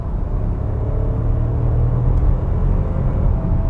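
A SEAT Ateca SUV's 1.0 TSI three-cylinder engine is held high in its rev range, giving a steady, fairly muted droning rumble inside the cabin with no voices.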